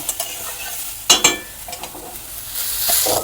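Lightly sautéed drumstick (sajne data) stalks tipped from a pan, with a brief clatter and rush around the midpoint, then a steady sizzle building toward the end; no talking.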